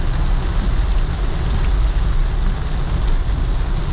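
Loud, dense downpour pounding a Honda City car in motion, a constant close hiss over a low rumbling drone from the road, with no talking.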